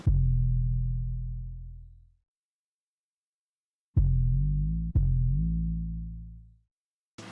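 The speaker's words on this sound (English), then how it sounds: "I slightly complexed up the 808 pattern," Deep 808 bass notes from a beat play on their own: a long sustained boom fades out, then after a pause two more booms follow in quick succession, loud and clean with no other sounds or talk.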